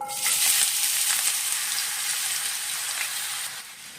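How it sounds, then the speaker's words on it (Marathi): Two finely chopped onions sauté in five or six spoons of hot oil in a kadhai for a prawn curry, making a loud, continuous close sizzle that holds steady and eases slightly near the end. "कांदा मऊ होईपर्यंत परतवून घ्या"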